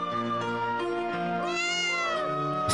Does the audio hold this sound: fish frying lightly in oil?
no